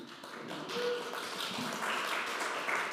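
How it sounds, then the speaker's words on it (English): Audience applause for an R&B singer at a Mother's Day event, a steady fairly quiet wash of many hands clapping for a few seconds with no voices over it. "I have to give time for your applause"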